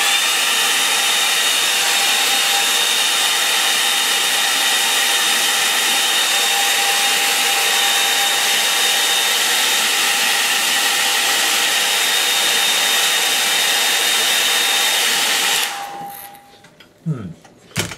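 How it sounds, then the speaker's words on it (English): A hair dryer blows steadily at close range while drying a watercolour painting, a loud continuous whine that cuts off near the end, followed by brief handling noises. "I'm going to dry that out if I can, because it's looking a bit horrible."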